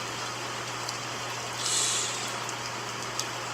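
Rain falls steadily outdoors as a soft, even hiss with a faint low hum beneath it, and a brief hushing voice rises over it midway.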